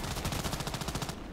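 A rapid, steady burst of RPK machine gun fire from the Contract Wars shooter game, close and loud, with evenly spaced rounds lasting about a second before cutting off.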